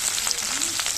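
Chopped garlic fries in oil with a brief, steady sizzle and crackle, heard close and alone.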